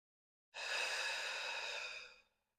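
One long, deep exhale of breath during yoga triangle pose practice, close and clear, a smooth airy rush lasting about two seconds before fading out.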